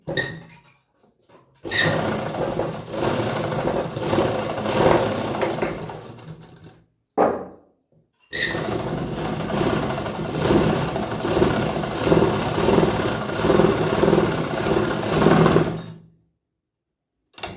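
A sewing machine stitches a seam on a heavy Patiala salwar, running in two long bursts of steady mechanical whirring with a brief pause between, loud and close with no talk.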